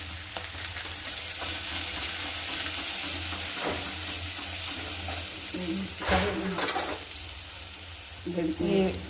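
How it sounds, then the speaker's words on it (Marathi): Ground masala paste for pav bhaji sautéing in oil, a low steady sizzle with a few scraping stirs near the end, close with no talk. "तेल सुटेपर्यंत छान परतून घ्यायचं"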